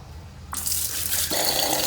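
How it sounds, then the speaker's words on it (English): A powerful faucet in a New York City pay toilet's sink switches on abruptly after a quiet moment, sending a loud, steady rush of water close by that grows fuller as it splashes into the basin. "Wow, powerful faucet,"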